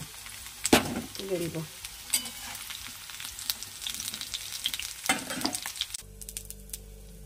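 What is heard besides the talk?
potatoes frying in a pan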